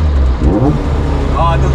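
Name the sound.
Caterham Seven 620S engine revving during heel-toe shift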